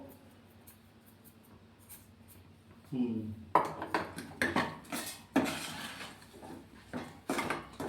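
Moong dal halwa with country sugar is stirred in a pan, giving a run of scraping, clinking strokes after a quiet start, with a person talking over it.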